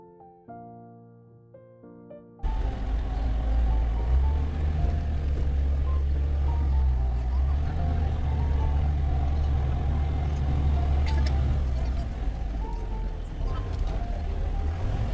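A jeep grinds along a rough off-road track with a loud, steady low engine drone and rumbling cabin noise, starting abruptly after a few seconds of quieter tones and continuing unbroken to the end.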